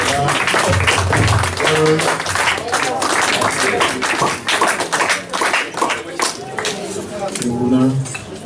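Audience applause during a congregation's morning worship gathering, steady dense clapping throughout with voices and cheering mixed in and a few clinking taps.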